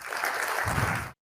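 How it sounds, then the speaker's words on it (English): A short burst of audience applause fills a conference plenary hall, dense clapping from many hands that cuts off abruptly after about a second. "Please give him an extra hard applause."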